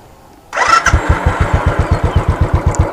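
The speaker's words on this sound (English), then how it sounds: "She comes to life quite easily." A 2016 Royal Enfield Classic 500 Desert Storm single-cylinder motorcycle starts with a brief crank, then settles into a loud, close, steady thumping idle pulse, with no talking.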